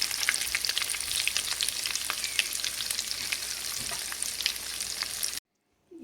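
Cheese pakoras fry in hot oil, a dense continuous sizzle with crackling pops, steady and close, cutting off abruptly near the end.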